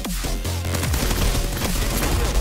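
Farlight 84 mobile battle-royale gunfire: dense, loud, continuous volleys of shots layered over game effects and a low rumble, with no talk.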